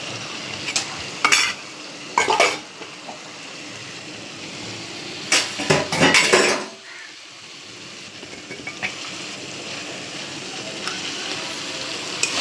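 A fish head fries with spice paste in a pan, with loud bursts of metal scraping and stirring over a steady sizzle, then a quieter, even frying hiss. Nobody speaks.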